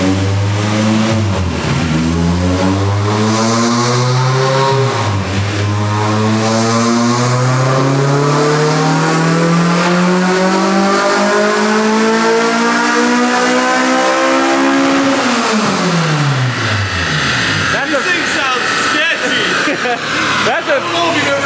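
Honda K24-powered Integra Type R revving hard on a dyno indoors, engine climbing repeatedly toward 9,000 RPM with rising harmonic whine, very loud and close, dropping off between pulls.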